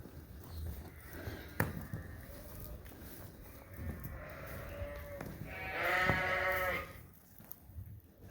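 Sheep and lambs bleating on a farm, several calls spread across the stretch and a louder, drawn-out bleat near the end, over a faint background.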